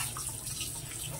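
Tap water running steadily into a sink while pig lungs are washed for a Bicol-style recipe, a continuous close splashing hiss with no pauses.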